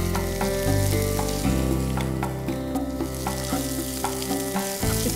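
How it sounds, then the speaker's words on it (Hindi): Sliced onions fry in a pan for a roasted red pepper tomato soup, producing a continuous close sizzle punctuated by light clicks and scrapes from stirring. "इसे तब तक कुक करना है जब तक इसका कच्चापन नहीं चला जाता."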